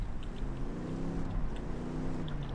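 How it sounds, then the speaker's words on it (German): Engines drone steadily with a rising and falling hum of cars driving nearby in Ghost Recon Wildlands, with a few faint electronic blips over the top. "Ich höre Autos."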